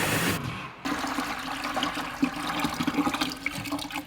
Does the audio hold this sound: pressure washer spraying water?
yes